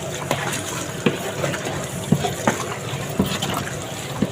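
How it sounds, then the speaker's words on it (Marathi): Water poured into a cooking pot for masala rice in a home kitchen, a steady broadband splash with a few brief clatters, fairly close, with faint background voices. "आता पाणी आठ पाच पाणी घालणार आहे"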